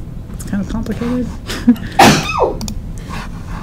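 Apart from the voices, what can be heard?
sneeze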